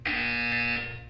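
A loud, steady electronic buzzer from the video game Portal 2 sounds once, a single sustained tone held for about a second before tapering off, with no talking over it.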